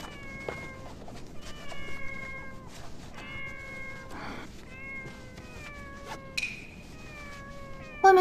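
Many feral cats meow outside, a string of drawn-out, wavering calls overlapping and following one another, some rising into a strained caterwaul, fairly clear against a quiet background.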